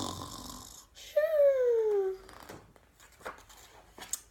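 A voice imitates a small bear snoring in a growly, snuffly way: one drawn-out, falling, wheezy snore lasting about a second, loud and close, between quieter stretches of room noise.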